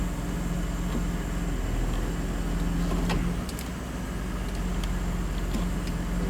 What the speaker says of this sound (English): the truck starts.